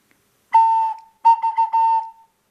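A small whistle pipe imitates an owl, sounding two clear, steady hooting tones in a quiet room, the second broken into short pulses.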